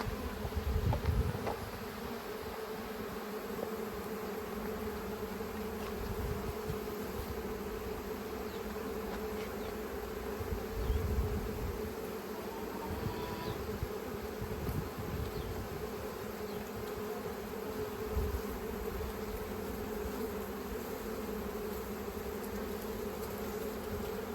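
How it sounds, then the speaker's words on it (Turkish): A small honey bee swarm drones steadily at a bait trap, a dense continuous buzz close to the listener with slight swells in loudness and no talk. "Küçük bir oğul yine. Aşağı yukarı geçenki oğula eşit bir oğul arkadaşlar."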